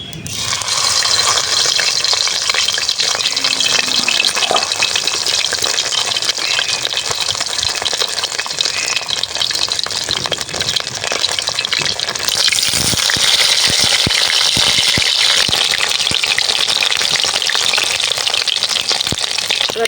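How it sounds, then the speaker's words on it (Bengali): Cumin seeds tempering in mustard oil, then a large tilapia fish head dropped in to fry, giving a loud, dense, continuous crackling sizzle that surges midway and holds throughout. "ওটা জিরে ফোড়ন দিয়ে দেবো এটা বড় তেলাপিয়া মাছের মাথা দিয়ে দেবো"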